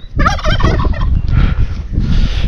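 A large fowl on a farm in Bolivia near Lake Titicaca gobbles loudly and close in a rapid, warbling burst of repeated calls, then keeps calling over steady outdoor background noise.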